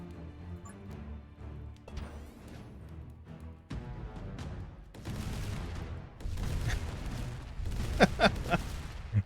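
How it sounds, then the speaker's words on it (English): Cannons in the tower defense game Emberward fire in scattered booms and pops over a game soundtrack, the volleys growing denser and louder toward the end. "Yeah, the cannons seem to do a pretty good job at wrecking"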